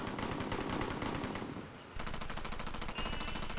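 Rapid automatic fire from a gangster's Browning automatic rifle in a zombie horror film, loud sustained bursts that dip briefly and then resume in steady rattling volleys.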